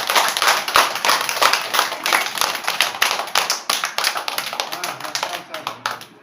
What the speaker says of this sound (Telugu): క్లాప్స్ కొట్టన్నా.